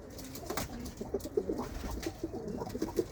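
Lakka pigeons coo nearby in repeated low throaty notes, several soft calls spaced across a few seconds against a quiet background.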